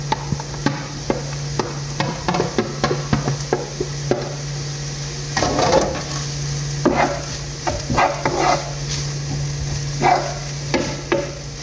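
Boneless chicken pieces frying in a pan, with a constant loud sizzle under scattered clinks and scrapes of stirring and a low steady hum, no talk.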